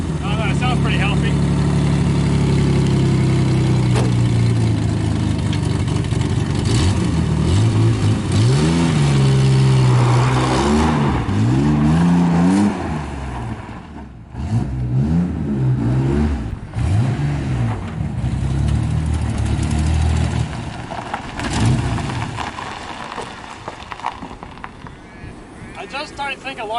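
Holden VP Lexen car engine driving around a yard, its note rising and falling through repeated revs, close and loud, with a person talking over it.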